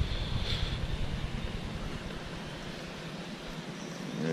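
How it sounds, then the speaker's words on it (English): Strong wind roars and buffets steadily across the microphone while fishing outdoors, with a constant rumble and no talking. "I'm gonna throw the drop shot because there's too much wind."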